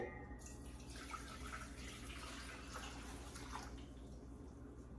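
Tap water running into a pot being rinsed out in a home kitchen, a continuous close splashing wash that thins slightly toward the end, no voices.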